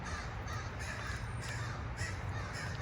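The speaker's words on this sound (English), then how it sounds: "Maybe with these crows." Crows caw outdoors in a series of harsh, repeated calls at moderate distance, several birds overlapping with no talking.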